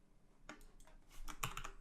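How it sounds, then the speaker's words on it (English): Arrow keys on a computer keyboard are pressed in a short quiet burst of soft clicks, close up, with no talking. "I'm just now using the arrow keys and holding shift and moving it across."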